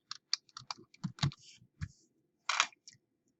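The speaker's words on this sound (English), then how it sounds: "Select the word important in the first sentence. Type the word essential." Keys clack in a quick, uneven burst of close taps on a computer keyboard while a word is typed, ending with a louder press, in a quiet room.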